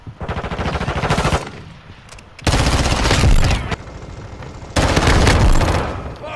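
Automatic gun blasts in Call of Duty MWII, fired from a blueprint weapon in three loud sustained bursts separated by brief quieter gaps, close and dominant with no talk over them.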